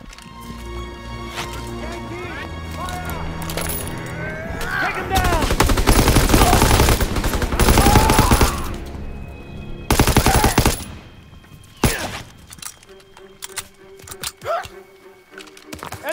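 Bursts of rapid machine-gun fire and scattered shots in Call of Duty WWII, swelling into loud sustained volleys, then breaking off into isolated cracks, with shouted voices in between.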